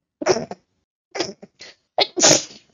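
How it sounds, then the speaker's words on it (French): A person sneezes three times in a row, each sneeze close and sharp with a breathy intake before it, the last one the loudest. "quand j'éternue, c'est par 3 évidemment"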